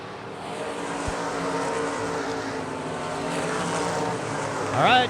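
ASCS Elite non-wing sprint cars race around a dirt track at South Texas Race Ranch, engines droning steadily at a distance and rising near the end, under a commentator's voice.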